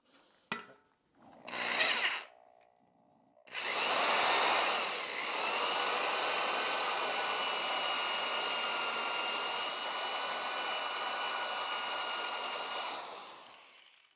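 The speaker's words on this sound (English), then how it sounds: "So when drilling the rivet out, just gently drill it out" A power drill boring out a rivet on a car exhaust heatshield: two short bursts, then a steady high whine of the drill running continuously for about ten seconds before winding down.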